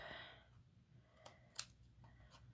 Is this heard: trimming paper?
yes